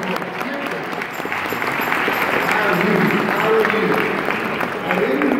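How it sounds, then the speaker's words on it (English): An audience gives a sustained round of applause, a steady wash of clapping that swells slightly midway and continues to the end, with some crowd murmur mixed in. "Another round of applause."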